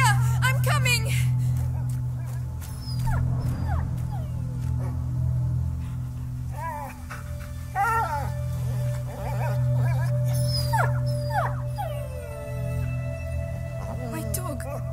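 A dog whimpers and yips in the video game A Plague Tale: Innocence, with repeated high, wavering cries over a steady low ambient drone and game sounds.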